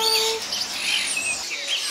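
A talking bird at a Hong Kong market stall gives short, bright chirps and thin whistled calls, fairly close and clear against a quiet background.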